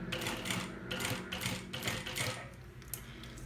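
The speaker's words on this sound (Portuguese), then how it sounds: "E vamos costurar." A sewing machine stitches along the edge of a small thermal bag, making a quick rhythmic mechanical clatter with repeated pulses, close and fairly loud throughout.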